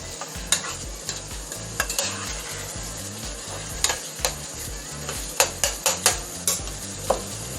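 Chili powder being stirred into meat in a pan for enchilada filling, steady sizzling under repeated sharp scrapes and clacks of a utensil against the pan at an uneven rhythm.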